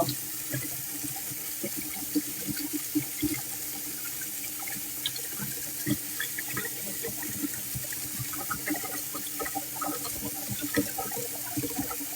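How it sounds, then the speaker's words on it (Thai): A tap runs steadily into a sink while someone washes their face, a constant close wash of water broken by small splashes. "วันนี้ เราล้างหน้าทาครีมให้ดูเลย"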